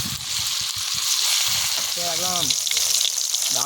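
Silver carp frying in hot oil gives a loud continuous sizzle up close, with some low clatter early on and a short voice partway through.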